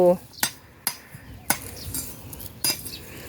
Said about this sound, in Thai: สับปลายสับรากสับรากที่แก่ออกให้หมดเลย